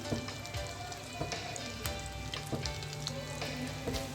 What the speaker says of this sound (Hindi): फ्लेम यहाँ मैंने मीडियम रखा हुआ था, और कबाब का एक साइड जो है वो फ्राई हो चुका है।